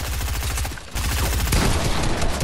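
Rapid bursts of Fortnite video game gunfire, loud and dense with repeated sharp shots, a brief lull near one second, then continuous firing that grows heavier toward the end.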